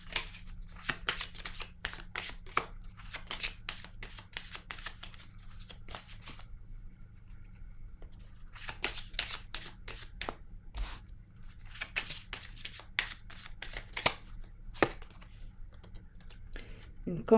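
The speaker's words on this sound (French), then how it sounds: "Je vais déposer une carte rose ici." Cards being handled and laid down during a tarot-style reading: soft shuffling, sliding and tapping in scattered clusters with quiet pauses between, close and light.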